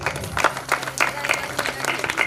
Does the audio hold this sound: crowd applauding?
yes